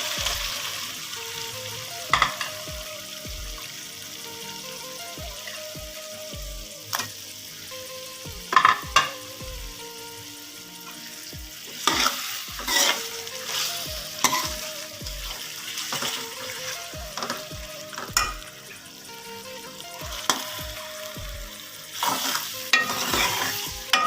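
Potatoes frying in masala over medium heat for aloo anda curry, a steady sizzle with repeated scraping stirs of a spoon against the pan, close and clear with no talking.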